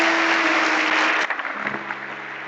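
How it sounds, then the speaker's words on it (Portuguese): A church congregation applauding loudly and continuously, a dense wash of clapping that thins into scattered claps as it fades. "Vamos aplaudir ao Senhor por isso que Ele pode fazer."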